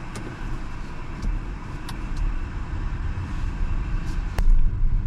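A BYD Dolphin Mini electric car on the road, heard from inside as a steady low rumble of tyres and road noise, with a few faint clicks and a slight rise toward the end, and no one talking.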